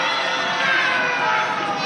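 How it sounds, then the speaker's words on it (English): A wrestling arena crowd roars and cheers continuously at a championship match, a dense, loud wall of massed voices with shouts rising and falling throughout. "listen to the venom from this crowd. These are cheers"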